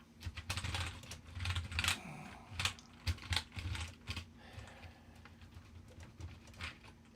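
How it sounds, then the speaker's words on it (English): Fingers type on a dirty old Apple Pro keyboard, close and fairly quiet, an irregular patter of key clicks with brief pauses and no talk. "This crappy old poor Pro keyboard"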